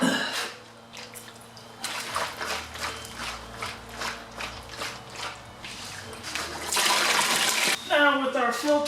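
Water sloshes and rushes through a Prius hybrid battery part being flushed clean, with mechanical rattles and clanks throughout, then a louder gushing burst near the end followed by trickling.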